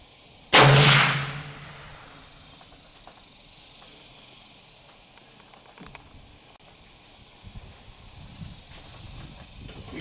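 A single loud rifle shot cracks out during a hunt, a sharp close blast that rings and fades over about a second, followed by quiet outdoor ambience and faint movement.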